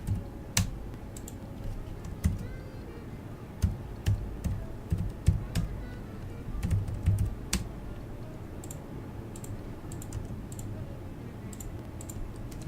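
Computer keyboard typing while drafting a door in AutoCAD: irregular bursts of light clicking keystrokes with short pauses between runs, close and fairly quiet, no talking.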